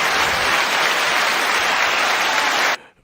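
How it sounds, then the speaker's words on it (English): Stadium crowd of football fans cheering and clapping as the Bulldogs warm up before an Altus vs Guthrie game, a dense, steady roar of applause heard from a field mic that cuts off abruptly near the end. "Here we go as they're cheering as the Bulldogs are warming up."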